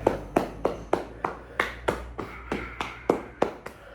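Open hands tap steadily on the body during a yoga and breathwork routine, about a dozen crisp, evenly spaced slaps in a close, quiet room with no talking.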